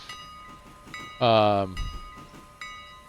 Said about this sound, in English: I can hear the trains go by for BNSF.